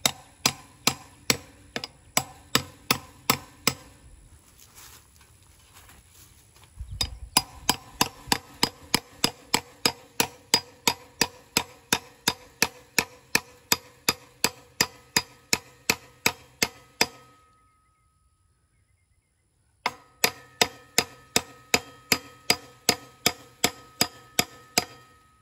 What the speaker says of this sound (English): I'm just gonna hit it with a hammer a couple times